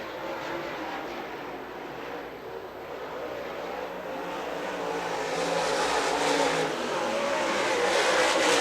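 Late model stock cars race around a short oval track, a steady roar of engines that swells louder as the pack comes closer, heard from a distance with no talk over it.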